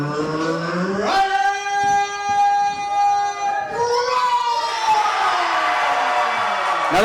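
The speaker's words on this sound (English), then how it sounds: "Now that's some good enthusiasm from the crowd for Ryan CROWE." Synthesized arena crowd cheering from the wrestling video game Super Shogun Wrestling: a steady wash of electronic noise with wavering, siren-like tonal wails that swell and shift partway through.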